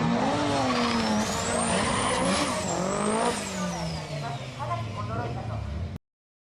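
A Nissan S14 Silvia drag car's turbocharged stroked 2.2 litre SR20 engine with a T51R KAI turbo revs hard with a rising and falling whine and tire squeal, loud and close, then cuts off abruptly.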